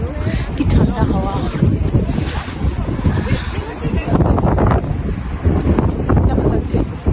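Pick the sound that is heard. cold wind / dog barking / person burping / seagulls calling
cold wind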